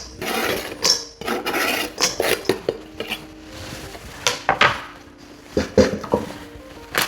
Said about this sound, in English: I'm going to chuck those into a mixing bowl.